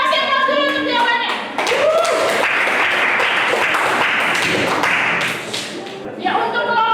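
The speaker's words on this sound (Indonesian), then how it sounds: "Kita kasih aplaus dulu untuk jawabannya" Classroom applause breaks out for a student's answer, a burst of many hands clapping for several seconds before talk resumes, with voices speaking before and after.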